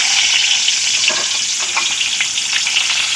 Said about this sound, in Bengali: পটলগুলো ভেজে নেব। লবণ মাখানো পটলগুলো দিয়ে দেব।